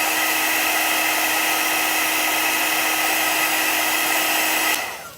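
A handheld heat dryer blows steadily with a loud, constant hissing whine over a Chalk Couture craft piece, then cuts off at the end as its sound winds down.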